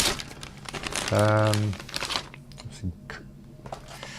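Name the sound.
big plastic bag crinkling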